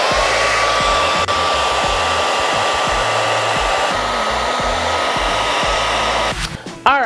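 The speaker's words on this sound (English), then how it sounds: "we already have our blow dryer" A hair dryer, used to shrink wine bottle seals, blows loudly and continuously with a steady whooshing hum, then its pitch wavers and it switches off at the end.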